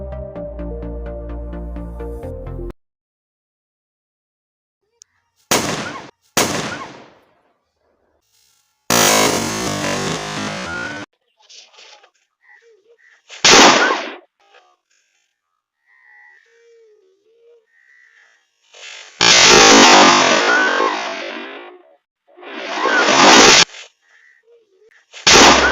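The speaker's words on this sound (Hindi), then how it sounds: "चलिए अब दूर से हम पटाखे चलाते हैं।" Homemade remote-controlled firecracker machine setting off firecrackers from a distance: several sharp, loud bursts in uneven succession, some with brief crackling tails, separated by quiet gaps with faint background sounds.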